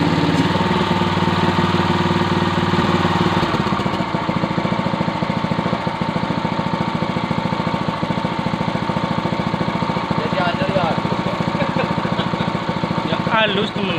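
A Yamamax Pro 3-inch water pump engine runs steadily and smoothly, a close, loud continuous drone with an even rhythmic chug, while people talk over it.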